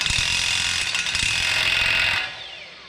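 A ratchet wrench works a 36 mm axle nut on a Honda CR-V, giving a loud, fast, continuous mechanical clicking up close for about two seconds before it stops.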